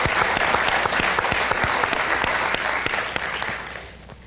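Audience at an anniversary panel breaking into a round of applause, dense even clapping that holds steady and then fades away toward the end.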